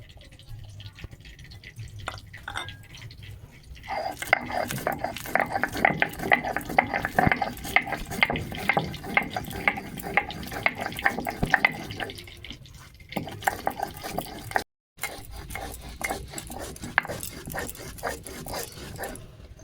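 Roasted whole garam masala ground on a stone slab: a steady run of rhythmic scraping and grinding strokes, fairly close, with brief pauses near the start and end and no talking.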